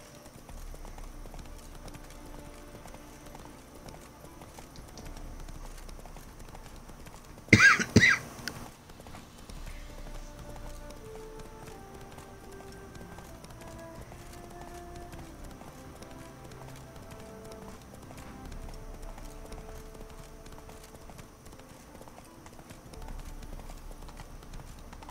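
Horse galloping in the video game The Witcher 3: quiet hoofbeat clip-clop under low game ambience and music, with one loud sharp burst of impact sounds partway through.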